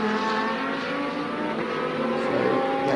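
A black KTM X-Bow GT2 race car passes during a Fanatec GT2 Series race at the Red Bull Ring, its engine a loud, steady roar that swells slightly near the end.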